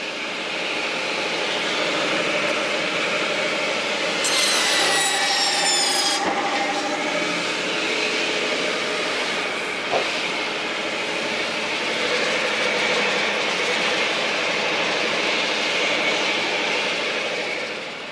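A small home-built firewood processor labors through a big log with a continuous mechanical drone and rough grinding, a short screeching burst partway through and a sharp knock later, all without speech.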